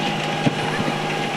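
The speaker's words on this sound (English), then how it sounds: "Going for a tractor ride here." A tractor engine runs steadily during a tractor ride at Prairie Gardens Adventure Farm in Bon Accord, Alberta, a constant close rumbling hum with faint voices under it.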